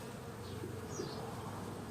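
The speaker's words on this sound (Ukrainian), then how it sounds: "Бджоли вилітають, забирають." Honeybees buzz close by as they fly out from old frames holding a little crystallized honey, a steady, faint insect hum with no talk.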